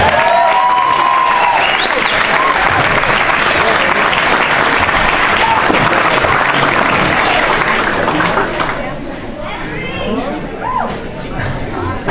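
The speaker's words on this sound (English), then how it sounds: "Big round of applause for Dave, everybody." A packed crowd at a live storytelling show claps loudly and cheers with whoops and chatter mixed in, a thick continuous roar that drops off near the end as voices carry on.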